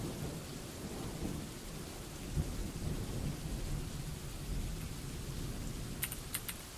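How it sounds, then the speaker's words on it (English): Steady rain with rolling thunder in the video game Dwarf Fortress, a continuous low rumble and hiss at moderate level, with a few faint clicks near the end and no talking. "Damn it, it's raining again."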